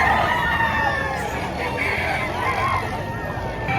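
Roosters crow and chickens cluck amid a crowd at a livestock market in Padre Garcia, Batangas, with steady babble and nearby chatter under the bird calls.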